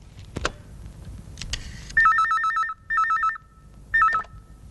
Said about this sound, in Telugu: అలాగే నేను ఫోన్ చేస్తాను.